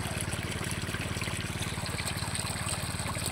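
Water flows steadily into an irrigation channel in a corn field, a constant rushing trickle with a low rhythmic pulsing underneath, likely from a pump, and no one speaking.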